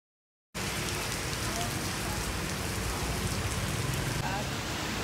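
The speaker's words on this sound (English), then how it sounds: "We're waiting for the rain to stop" Heavy rain pours on a roadside in Ninh Binh, Vietnam, a dense, steady roar of drops hitting surfaces that starts abruptly after a moment of silence and stays loud and even.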